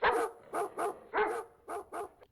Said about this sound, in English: hey, puppies, come here, please. Hey, They are dogs.